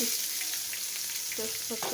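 Onion frying in oil for a Bengali chicken curry with potatoes, a steady dense sizzle filling the pan throughout, close and even, with brief faint voice fragments near the end.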